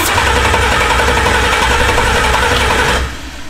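A twin-turbo 427 LSX V8 in a Buick Skylark with Holley EFI fires for its first start, a loud, dense, steady engine roar that runs for about three seconds and then drops off abruptly, with no talk over it.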